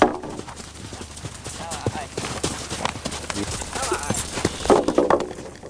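Horses with riders, their hooves clip-clopping on a hard surface in an uneven rhythm, with a whinny and voices talking over the steps throughout.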